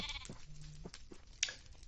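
Sheep in the Minecraft-style game Hungry World give a short, faint bleat, then a couple of small clicks and a brief sharp blip.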